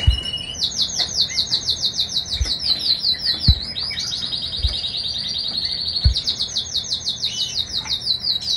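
Canaries chirp in fast, bright trills that repeat almost without pause, close and loud, with a few low knocks underneath.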